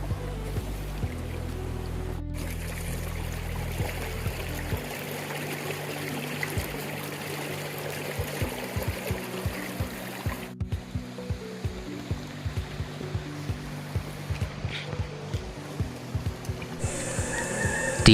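Clear, clean water flowing in a stream in a tribal village setting, a steady close trickle and babble running throughout alongside a low continuous hum.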